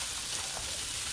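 Onions and vegetables frying in a pan, a soft, steady crackling sizzle, even and unbroken throughout.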